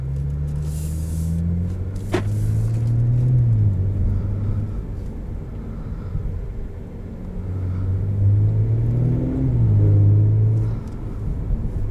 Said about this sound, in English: Tons of fun to drive. We're in dynamic S transmission mode.